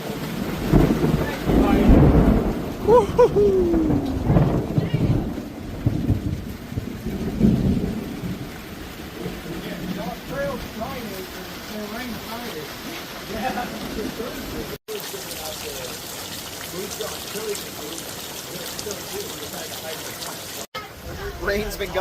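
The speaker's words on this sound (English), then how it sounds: "Rain's been going for about a half hour, 45 minutes, and no signs of letting up." Heavy rain pours down steadily during a storm along the Appalachian Trail, a dense close hiss with deep rumbles of thunder early on, while a person whoops and talks over it.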